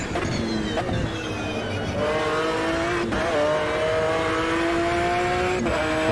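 McLaren GT1 race car in Automobilista 2, its engine loud and close, climbing through the revs with gear changes and rising pitch and a brief tire squeal, continuous and with no talk.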